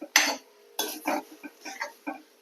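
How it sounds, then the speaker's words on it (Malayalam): A spoon scrapes and clinks against a pan while chapati roll masala is stirred, several distinct close strokes in an uneven rhythm with quiet gaps between. "നന്നായി ഇളക്കി കൊടുക്കാം"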